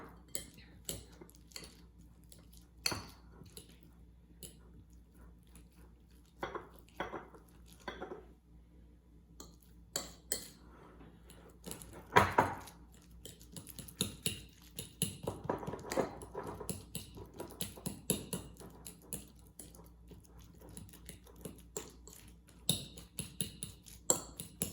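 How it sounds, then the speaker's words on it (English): A fork mashes ripe bananas in a bowl for cookie dough, with scattered clinks and soft squishy scrapes against the dish, quiet and irregular. "So just a fork. I'm gonna mush these up real quick."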